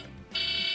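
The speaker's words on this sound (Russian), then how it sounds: "Тут у нас сигнализация." A toy car's alarm switches on abruptly after a quiet moment, sounding a steady, fairly faint electronic tone.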